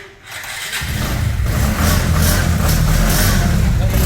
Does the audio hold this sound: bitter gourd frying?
no